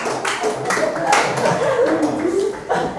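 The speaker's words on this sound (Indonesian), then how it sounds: "Tepuk tangan buat Parsa ya." Students in a classroom clap for a classmate, a brisk, close burst of hand claps that runs for a few seconds, mixed with chatter and light laughter.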